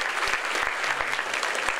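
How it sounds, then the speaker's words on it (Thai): Steady applause from an audience at a school handwriting competition in Ang Thong, Thailand, with education officials present; dense, continuous clapping fills the clip with no break. "ปรบมือให้พ่อขอท่าน"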